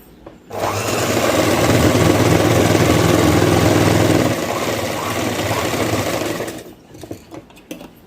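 Sewing machine stitching the side seams of a baby gown, a fast steady motor whir lasting several seconds with a slight slowdown midway before stopping, near and loud, with no voices.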